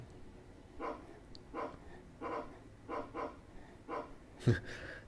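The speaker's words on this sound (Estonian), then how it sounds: "kui ta vähi kätte saab, siis ta haugub" A dog-bark sound effect plays in a Scratch crab-catching game, coming as a run of short, evenly spaced bursts at moderate loudness, ending in one sharper, louder hit.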